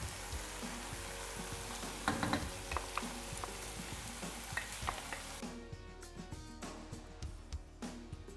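Cauliflower rice fries in a pan with a steady, close sizzle, punctuated by scattered pops and stirring clatter, then quiets somewhat toward the end.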